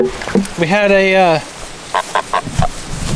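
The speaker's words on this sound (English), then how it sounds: "geese are chasing each other" Geese chasing each other let out one loud, drawn-out honk, followed by a few short clucking calls, with a voice heard speaking briefly.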